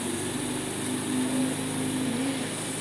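Small engine held steady at about 2000 RPM, a constant, even drone with a faint tonal whine running throughout at moderate level, no voices.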